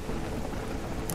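Steady rainfall in the survival game REM Survival (Remnants), a dense, even hiss of rain with a low rumble beneath it, continuous and fairly loud throughout.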